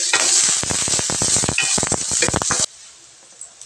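Garlic frying in a little cooking oil in a pan, a loud crackling sizzle with dense popping spatters that cuts off abruptly, leaving quiet clinks afterward.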